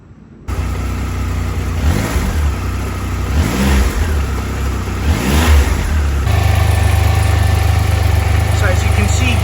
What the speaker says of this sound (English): Let's turn on the engine and let it run until the fan kicks in, until the fan turns on, and briefly raise the RPM as well.